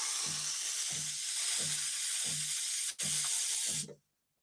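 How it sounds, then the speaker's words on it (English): A WPM Primus espresso machine's steam wand hisses steadily and loudly while its vibratory pump pulses in a regular low throb about every two thirds of a second, then the steam cuts off abruptly into silence. "Oh, that's a vibratory pump."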